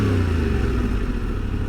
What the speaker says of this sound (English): just hold the clutch in and then give it a blip of power on the throttle